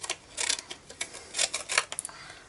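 Quick paper snips as scissors trim a scrap of patterned craft paper to fit a tag punch, a handful of short crisp cuts in an uneven rhythm, close and moderately quiet.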